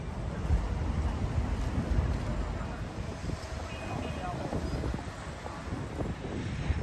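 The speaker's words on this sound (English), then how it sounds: "The wind is just cutting right through me into my bones." Cold wind blows along a busy Beijing shopping street in winter, a steady loud roar buffeting the microphone throughout, with faint distant traffic and crowd murmur beneath.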